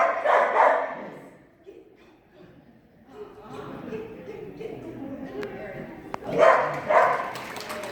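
Dogs yip and bark in short bursts at a mall dog demonstration, with a louder flurry near the end, mixed with a handler talking and crowd chatter.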